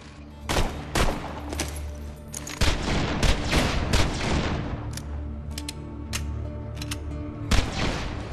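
Rapid bursts of fire-elemental gunfire in Borderlands 2, loud and repeated with sharp shots over a dense, continuous layer of crackling combat noise.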